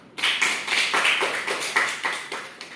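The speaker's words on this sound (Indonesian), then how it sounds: "Tepuk tangan dulu untuk kita semua." A class claps together in sustained applause, steady and close, with no talking.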